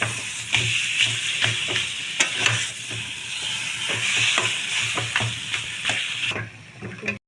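Olive chutney being stirred in a pan with turmeric and salt: a constant sizzling hiss with a low, rhythmic thudding of the spoon, close by, ending abruptly.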